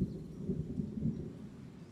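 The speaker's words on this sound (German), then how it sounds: "Oh, es regnet herrlich." Rain and thunder in the Vietnam War video game S.O.G. Prairie Fire form a low, steady rumble with soft patter, a short, muffled stretch of stormy ambience.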